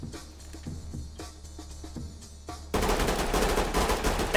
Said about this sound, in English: he's still shooting his body